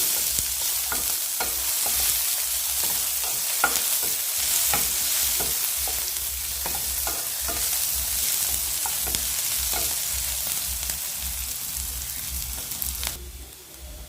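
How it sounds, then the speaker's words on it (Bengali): Chopped onions sizzle steadily in a pan, with a spatula scraping and stirring in short strokes throughout; no one speaks. "আমি এখানে কিছু দেবো একটু পেঁয়াজ কুচি। তো এগুলোকে আমি একটু ভেজে নেবো আগে"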